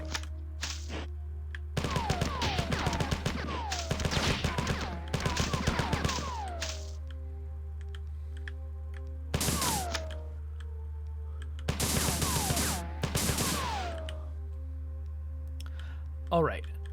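Gunfire in the classic video game Marathon comes in repeated rapid bursts with falling, whooshing tones. Several clusters are spaced over the span, over a constant low hum.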